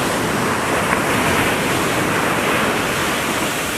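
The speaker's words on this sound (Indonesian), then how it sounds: "Ombak pantai di Desa Lemong mencapai 2 meter." Ocean surf of about two metres breaks on the beach at Lemong village, which faces the Indian Ocean, producing a loud, continuous roaring wash with no voices.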